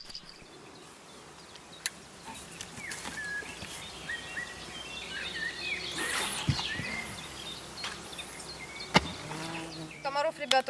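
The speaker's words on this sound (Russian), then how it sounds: "Комаров, ребят, очень много" Mosquitoes and other insects whining and buzzing faintly through the night on a riverbank at a fishing camp on the Western Dvina, a thin steady hum with occasional bird calls and someone talking nearby.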